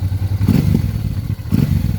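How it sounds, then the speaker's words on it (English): Honda Transalp 600/650 motorcycle with an aftermarket exhaust, baffle fitted, idling loudly up close with a deep rumble and two short throttle blips that swell and drop. "this is on an aftermarket exhaust, and it does sound a lot better. But that's with the baffle in, and when you rev it, it doesn't scream"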